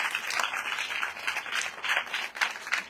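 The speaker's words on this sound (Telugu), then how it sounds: "కొట్టండి గట్టిగా ప్రభుకి చప్పట్లు" A church congregation claps loudly and continuously for the Lord, a dense, steady wash of many hands close by without a break.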